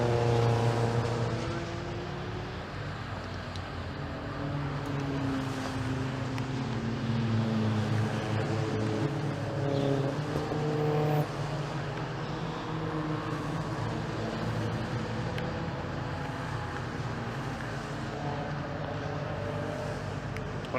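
Caterham race cars run a green flag lap at Cadwell Park, a continuous engine drone that rises and falls in pitch as the cars pass at middle distance, with no speech.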